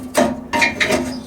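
Burners being taken off a rusty Coleman 425C camp stove, three sharp metallic scraping and ratcheting bursts in quick succession, close and loud, with no voices.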